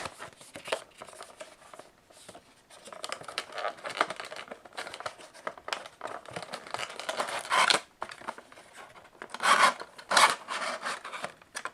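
Unboxing an Atlas Editions Nissan NT400 Cabstar model truck in Eddie Stobart livery, close rasping, rubbing and scraping of cardboard and plastic packaging in irregular bursts, louder swells near the end.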